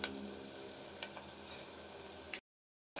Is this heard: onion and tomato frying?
yes